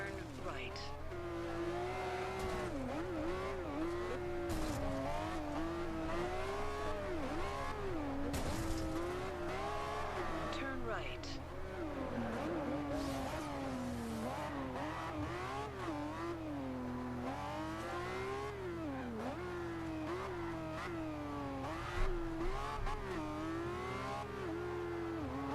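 Racing-game engines of a Lamborghini Murcielago LP700 and a Ferrari Enzo drone steadily throughout, with revving pitch swings and occasional tire squeal, a continuous mid-level roar with no talking.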